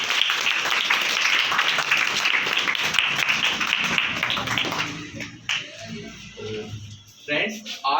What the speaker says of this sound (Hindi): सबसे पहले शेखर सर का ताली के साथ स्वागत करेंगे